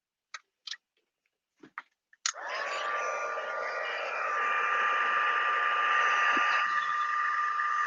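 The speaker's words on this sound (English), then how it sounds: "And now we dig out the heat gun." Heat gun blowing steadily for heat embossing on a stamped card, a loud continuous airy roar with a whine that starts after a few light taps and holds to the end.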